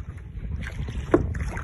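A paddle dipping and pulling through water from a kayak, with splashes and a gurgle over steady outdoor wind noise on the microphone; brief and close, with no talk.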